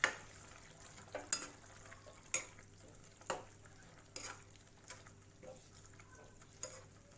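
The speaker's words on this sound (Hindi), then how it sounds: "हम इसमें क्रीम ऐड करेंगे, फ्रेश क्रीम है। इसे हमें अच्छे से मिक्स करना है।" Fresh cream is stirred into methi matar malai curry in a pan, with a soft sizzle running throughout and a few sharp utensil scrapes and knocks against the pan at irregular intervals.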